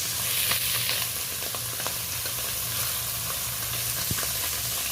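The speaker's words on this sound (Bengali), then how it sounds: "মাছটাকে ভালোভাবে নেড়ে নিচ্ছি" Fish sizzling in a small amount of hot oil while being stirred, a steady bright crackling hiss with scattered pops and scraping, close and continuous.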